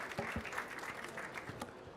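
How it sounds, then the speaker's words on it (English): Audience applause for a panel at a conference on business models and climate transition, a brief, faint patter of clapping across the room. "please an applause to the panel here"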